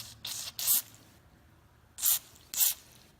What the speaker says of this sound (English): If you spray some carb cleaner in here